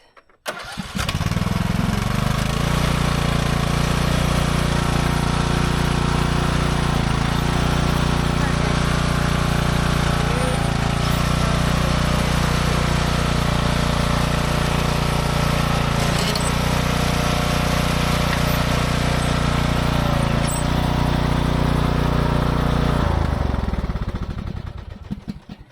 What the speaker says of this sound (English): You just pushed it with a mower, made it tighter